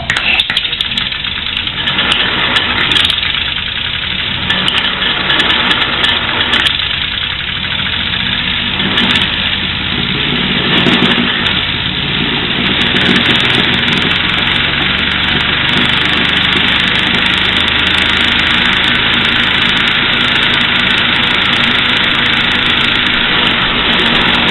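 A homemade air-powered engine runs continuously, spinning car wheels at speed, giving a loud, steady mechanical drone with rhythmic pulsing and fluttering, without speech.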